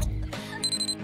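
An oven timer alarm in a kitchen while vegetables are roasting gives a short electronic ring, a thin steady high tone over a low background hum.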